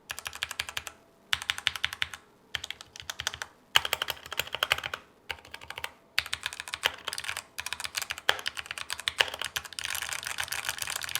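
Redragon mechanical keyboard fitted with red switches, typed on in close, steady bursts of rapid clicky-thocky keystrokes separated by short pauses, with no voices.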